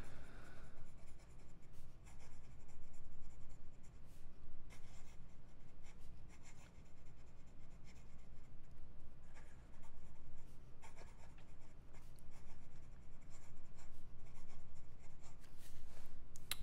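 A Platinum President fountain pen with a fine nib writes quickly on paper, making a close, continuous scratchy rasp in short bursts of strokes with brief pauses and no talking.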